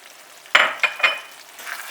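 Eggplant filling fries in a pan as cumin, ground pepper and black pepper are added, setting off a sudden loud sizzle followed by two more bursts that trail into a softer hiss.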